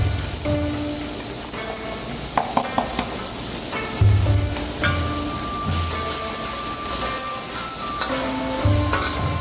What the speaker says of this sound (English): And then I'm going to cook some of my vegetables separately